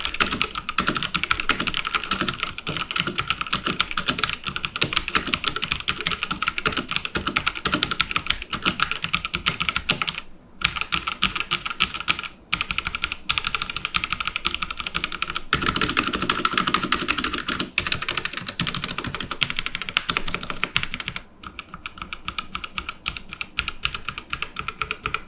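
Rapid continuous typing on a Rexus Legionare MX9 mechanical keyboard with removable switches: dense, clicky keystrokes close up for about 25 seconds, broken by a few short pauses.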